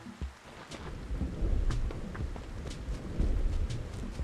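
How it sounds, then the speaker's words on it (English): Video game rain in Animal Crossing: steady rain patters down with low rumbles of thunder rolling underneath, a continuous stormy wash with no voices. "Oh, it's raining."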